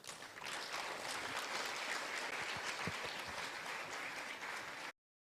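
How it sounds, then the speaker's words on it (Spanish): A church congregation at a special service applauds steadily for about five seconds to welcome a pastor, dense clapping that cuts off abruptly. "vamos a recibir ahora al pastor con fuertes aplausos"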